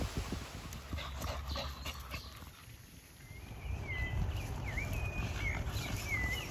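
An American Bully dog whimpers and whines in high, wavering tones over steady background noise and low rumbling, moderately close.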